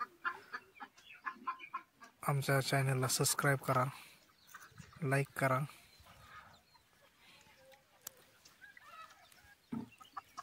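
Desi gavran hens and roosters cluck in short bursts between stretches of nearby talk, with one loud burst of clucking near the middle of the clip.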